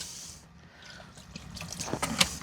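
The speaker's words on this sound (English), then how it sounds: "It's going to get a little bit of water in here." Water poured into a drip pan inside a hot tent in winter: faint trickling and splashing that builds toward the end, with a few brighter splashes, close but quiet.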